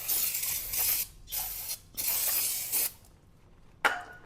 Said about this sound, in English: Should we put a bit of parts cleaner in there?